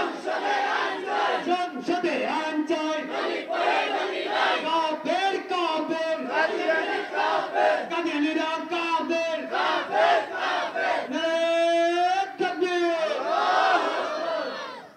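A large crowd at a religious gathering chants slogans loudly in unison, rhythmic repeated phrases with whoops, led by a voice, continuous and close for the whole stretch.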